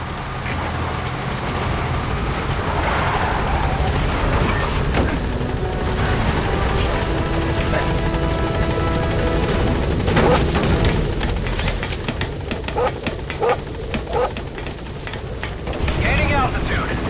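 A helicopter in Metal Gear Solid V: The Phantom Pain flies out of a hot zone, its loud continuous rotor roar mixed with booms and bursts of gunfire from the game's battle.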